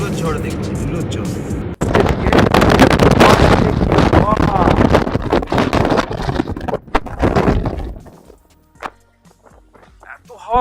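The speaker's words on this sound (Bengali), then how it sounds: "ঝড় দেখছি, ধুলোর ঝড়।" A dust storm near Debring in Ladakh drives strong gusting wind that buffets the microphone with a loud, rough roar for several seconds, then suddenly drops away, leaving a quiet stretch broken by a few faint knocks.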